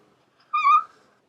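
An owl gives a single short hoot, clear and isolated against near silence.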